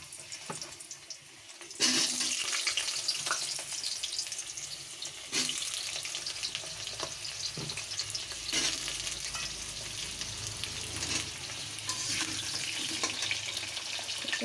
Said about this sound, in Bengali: ফ্লেমটা আমি জোরে দিলাম। আলুগুলো প্রথমে ভালো করে লাল করে ভেজে নেব।